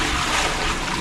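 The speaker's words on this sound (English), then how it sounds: "so I'm just putting a bit of water in" About half a bucket of water pours into a cement mixer while mixing sand for re-laying a patio, a steady loud splashing wash of sound throughout the short moment.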